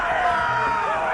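Arena crowd in a Game of Thrones video game roars and cheers in a steady, dense wash, loud and continuous throughout the short moment.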